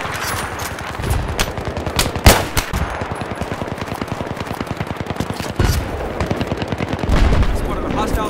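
Rapid, continuous automatic fire from an AK rifle in Battlefield 3, a dense steady stream of close, loud shots with a few heavier cracks, and a player talking over the shooting.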